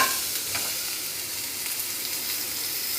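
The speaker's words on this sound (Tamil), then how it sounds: "இப்போ நம்ம அரைச்ச விழுதை நல்லா வறுத்துக்கலாம்." Ground tomato rasam paste fries in hot oil with mustard seeds, urad dal, fenugreek and dried red chillies, making a steady close sizzle and crackle with light stirring scrapes throughout.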